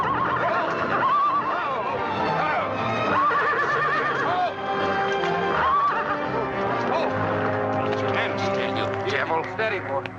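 A horse whinnies several times in a 1940 western film, its neighs rising over a swelling orchestral score with voices in the scene.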